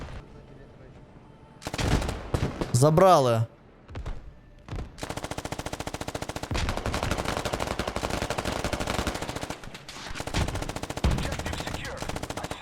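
Sustained bursts of rapid machine gun fire from a video game, loud and dense, with a brief spoken word and a short lull before the shooting resumes.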